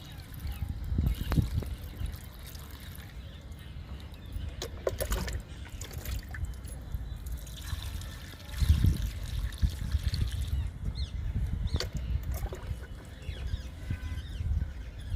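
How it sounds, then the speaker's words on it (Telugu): Water poured onto soil in potted plants, trickling and splashing steadily for a long stretch, with occasional faint bird chirps in the background. "వాటర్ ఇస్తున్నాను"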